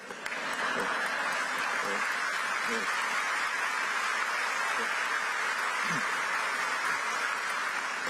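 An audience at a Texas Department of Public Safety graduation ceremony gives sustained applause, a steady, even wash of many hands clapping that holds at a constant level from start to finish.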